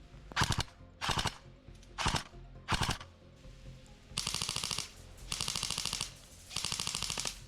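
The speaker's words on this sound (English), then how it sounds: "when it's jumping around on full auto with the bolt making all of the noise" Bursts of rapid mechanical gunfire from an airsoft AK with a tracer unit, first several short separate volleys, then longer sustained full-auto strings with a fast clacking bolt rhythm, close and sharp.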